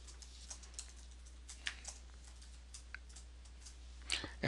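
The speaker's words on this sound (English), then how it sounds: "You can type text." Keys typed on a computer keyboard while entering text on a web page, heard as faint, irregular clicks and taps spread across the stretch, growing a little louder near the end.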